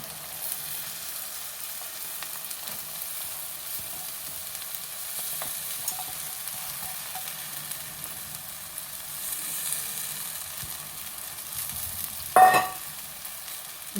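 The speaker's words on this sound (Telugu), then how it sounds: "ఆయిల్లో కాసేపు పెసరపప్పు అనేది కూడా ఆయిల్లో వేగనివ్వాలి" Washed moong dal fries in hot oil in a pan, giving a soft, steady sizzle with light stirring scrapes and a brief louder clatter of the spoon near the end.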